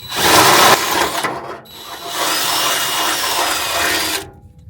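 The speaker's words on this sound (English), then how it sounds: "Now we can run our 15/16 drill bit." A drill with a 15/16-inch bit grinds loudly through a hole for a bolt on a C10 square-body truck, pausing briefly, then running steadily again before stopping; close and harsh.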